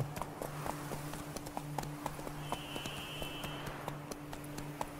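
Horse hooves clip-clop steadily in an even trotting rhythm through a fantasy audio drama scene, close and moderately loud against a low, droning background, with no voices.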